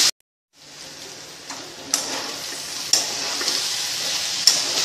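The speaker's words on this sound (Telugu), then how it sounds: "ఇలా ఫ్రై చేస్తున్నాము ఒక 5 మినిట్స్ పాటు" Potatoes sizzle steadily as they fry in a pan, with a spatula stirring through them in a few sharp scrapes and clicks over the constant hiss.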